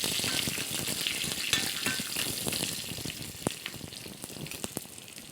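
Chopped shallots fry and get stirred in a pan for papaya sambar, producing a dense, close sizzle with frequent scraping clicks from the spoon throughout.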